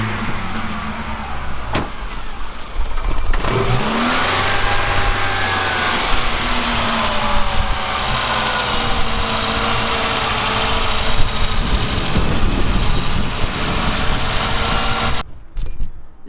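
A Volvo that is leaking antifreeze and smoking starts up, then revs and settles into idle while warming up. Its steady, loud engine drone rises and falls in pitch for over ten seconds before cutting off abruptly.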